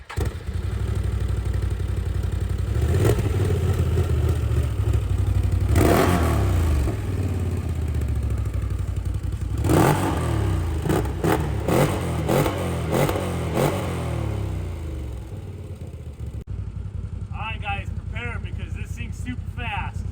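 A Can-Am Defender side-by-side fitted with an RPM sport muffler exhaust revs loud and close, its engine rising and falling through several throttle blips over a steady idle. A voice comes in briefly near the end.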